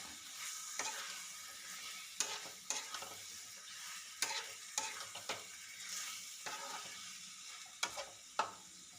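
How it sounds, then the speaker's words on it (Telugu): A spoon stirs chicken pieces coated in masala paste around a hot pan while chicken curry cooks, making a steady sizzle broken by sharp scraping clatters and knocks every second or so, with no talking. "చికెన్ వేసాక బాగా మసాలా పేస్ట్ని కలిసేలా బాగా కలుపుకొని మూత పెట్టేసుకోవాలి"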